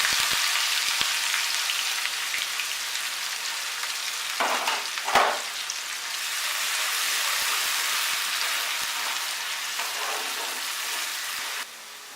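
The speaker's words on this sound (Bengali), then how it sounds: "এবার এর মধ্যে আমি পেঁয়াজগুলো দিয়ে দেব।" Chopped onions hit hot oil already tempered with cumin and dried chili for a Bengali prawn-cabbage dish, giving a loud, steady sizzle with a brief burst of crackling and stirring midway.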